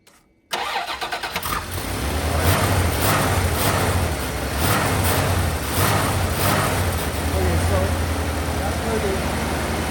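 A Dakota pickup truck engine, heard up close, is revved in several rising and falling bursts over a steady running base.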